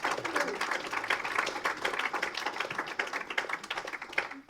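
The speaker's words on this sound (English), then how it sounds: "So a round of applause for Dan." An audience at an election hustings claps for a candidate, a moderate round of fairly quiet, slightly uneven applause that thins toward the end.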